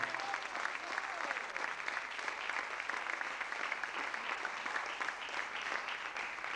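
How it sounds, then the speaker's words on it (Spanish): Steady applause from a church congregation praising the Lord during a Spanish-language sermon, a dense continuous clapping that stays fairly quiet and distant from start to end. "Denle un aplauso al Señor"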